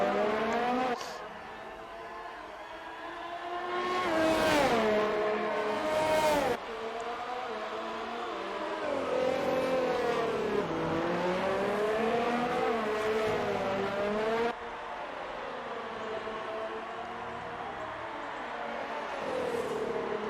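F1 cars racing at the Austria circuit in an Xbox racing game, with high-pitched engine whines rising and falling through gear shifts, loud and continuous across the whole stretch as several cars run together.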